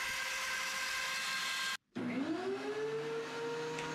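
A planer thicknesses a bass guitar fretboard, its loud steady motor whine breaking into a brief silence and then spinning back up with a rising pitch as the machine restarts.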